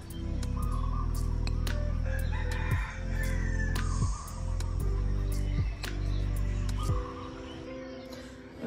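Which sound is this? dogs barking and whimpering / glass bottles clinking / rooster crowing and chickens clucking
rooster crowing and chickens clucking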